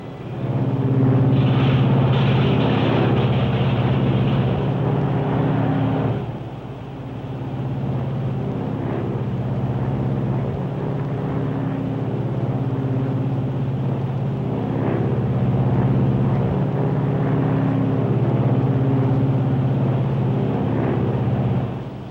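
Four-engined Lockheed Super Constellation airliner in flight, its number 1 engine being unfeathered, heard as a loud, steady, droning piston-engine rumble with a harmonic hum that dips and then swells back in as the engine comes up, with no talking.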